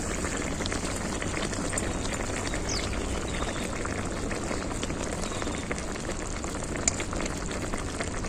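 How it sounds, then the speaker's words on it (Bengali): Spiced curry broth with fried aubergine bubbles in a pan, giving a steady, dense, close hiss of boiling liquid throughout with no voices. "ঝোল খুব ভালোভাবে ফুটে গেছে"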